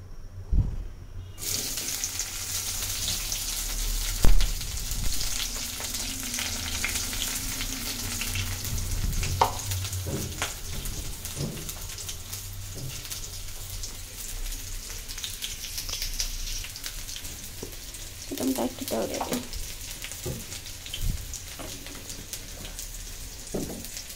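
Fish pieces and green chilies fry in a pan with a soft, steady crackling sizzle. Occasional utensil clinks and stirring knocks rise above it now and then.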